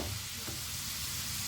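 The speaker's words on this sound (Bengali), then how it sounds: "দেখতে পাচ্ছ ভালোভাবে নেড়ে চেড়ে এভাবে।" Sweet corn being stirred as it fries in oil: a constant close sizzle and crackle with one short scrape of the spoon near the start, no voices present.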